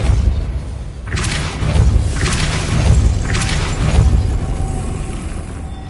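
A Depulso spell cast in Hogwarts Legacy, a wizarding video game, lands as a series of whooshing bursts over a deep rumbling bed. There are three or four loud blasts, roughly a second apart.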